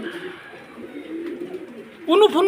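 Pigeons coo softly and steadily close by, a low murmuring drone that swells near the end as a louder burst of cooing and calls takes over.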